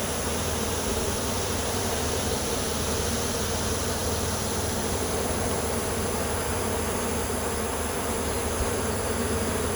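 Honeybees buzzing steadily around a hive after a July swarm with its queen was caught. A dense, continuous hum fills the clip, close and constant with no pauses.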